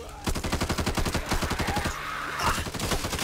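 Rapid gunfire bursts from a shotgun in the co-op zombie shooter Back 4 Blood, a dense run of quick, loud blasts that pauses briefly, then resumes, close and continuous, with no talk over it.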